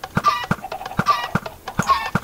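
Minecraft chickens cluck in a short repeating pattern, clear, close sharp clucks recurring rhythmically several times in quick succession with nothing else around them.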